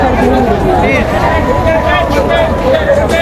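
A dense crowd bustles at Nabiganj river ghat on the Shitalakshya River, beside a ferry and boat landing during a fair, with steady overlapping chatter and voices close by, no single sound standing out.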